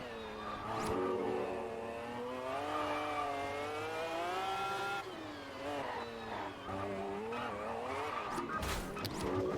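A car engine in the Test Drive Unlimited racing game revs and accelerates in a sustained climbing whine with shifting pitch, briefly dipping and rising again, near and loud throughout.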